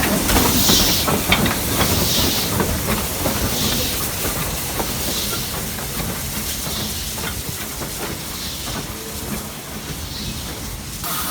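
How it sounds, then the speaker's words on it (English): Steady loud hiss from a BR Class 9F steam locomotive heard on the footplate, with broad rushing noise, repeated soft chuffing bursts and rail clatter running throughout. "actually drive this magnificent steam engine, the 9F."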